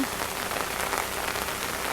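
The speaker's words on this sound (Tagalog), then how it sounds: "Inulan na kami guys." Steady rain falling hard on a surface nearby, a dense, even hiss of drops throughout with no voices.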